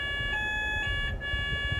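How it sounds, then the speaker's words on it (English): An alarm rings steadily in the background, a faint stack of sustained electronic tones pulsing in short repeated bursts over a low room hum. "the alarm is keep like ringing"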